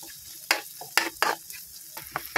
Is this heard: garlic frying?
yes